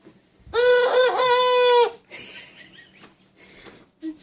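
A young rooster gives one of his first crows, a loud close strained call lasting over a second, followed by softer raspy clucks and a short final note.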